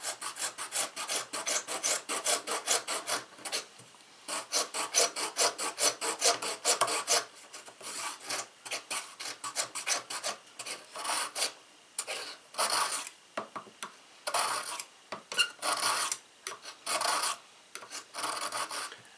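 Repeated rasping strokes of a nicked Homestead kitchen knife blade drawn through a Smith's sharpener, in quick bursts with short pauses, close and fairly quiet.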